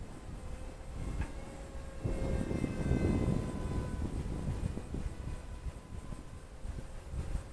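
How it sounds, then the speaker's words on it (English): A radio-controlled model airplane drones steadily at a distance, its engine whine rising to a nearer pass midway and then fading back, with no talk. "I really like this plane."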